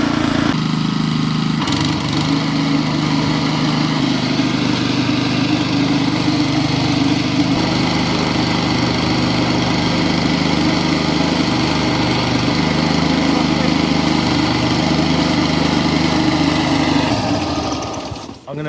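A Westermann moss brush with a petrol engine, its throttle cable suspected faulty, runs steadily at high revs with a loud, close, droning whine that stays constant and then drops away at the very end.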